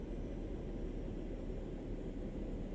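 Boeing 737-800 engines idle in Microsoft Flight Simulator 2020 during an approach into Dubai, a steady, even low roar with a broad airy hiss and no voices.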